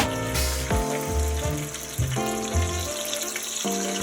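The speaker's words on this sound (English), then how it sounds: "Put it in the frying pan. Now the frying pan is nice and hot" Bacon sizzles in an already hot frying pan, a steady bright crackle running the whole time with sharper pops and brief clatters of strips being moved, close and moderately loud with no talking.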